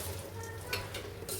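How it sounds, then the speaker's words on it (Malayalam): Vermicelli and semolina fry and sizzle in ghee in a pan while being stirred, a close, steady crackle with faint scraping strokes and no talking. "ഞാനിതിൽ സേമിയം വറുത്തെടുക്കുകയാണ് കേട്ടോ"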